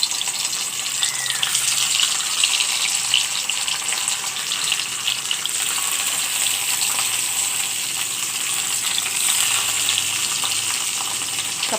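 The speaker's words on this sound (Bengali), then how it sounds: "সবকটি মাছ এগুলো তেলে ভেজে আমি তারপরে ভর্তা করব" Fish frying in hot oil for a Bengali fish bharta give a steady, bright sizzle with crackling pops that carries on evenly for several seconds. Nobody is speaking.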